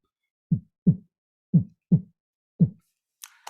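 A beatboxer uses the throat to imitate a heartbeat with five deep, close thumps in an uneven, loping rhythm, and a brief breathy hiss at the end.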